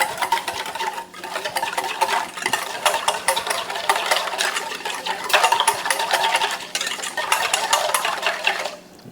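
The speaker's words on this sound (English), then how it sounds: "We're going to give it a whisk." A whisk beats white distilled vinegar and dried oregano in a bowl, giving a steady, close, rapid scraping and rattling rhythm that runs almost without a break.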